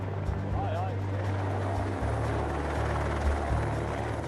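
A helicopter bringing supplies by air to a remote wilderness camp in New Zealand gives a steady loud rotor thud and engine drone, with a voice speaking over it.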